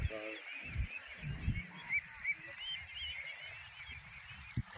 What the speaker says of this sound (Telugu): అన్ని చిన్న బాతులే బావా.